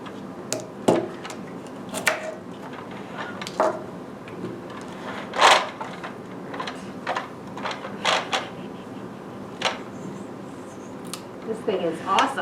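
A kitchen gadget blade slices carrots, making a string of crisp, close cutting clicks and chops at an uneven pace, heard alongside talking.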